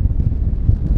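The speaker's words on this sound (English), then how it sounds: "So windy." Strong wind buffets the microphone at a summit with a low, rumbling roar that gusts unevenly and stays loud throughout.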